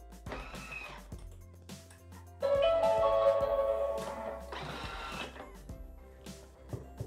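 A Thermomix food processor mixes a hand sanitizer batch with glycerin in a steady, fairly loud motor whir that runs for several seconds, with clicks and quieter handling sounds before and after.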